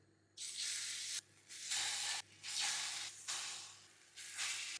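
Sausages wrapped in bread fry seam-side down in hot oil in a pan nearby, the frying hiss swelling in four or five loud bursts with brief quieter gaps, no voices.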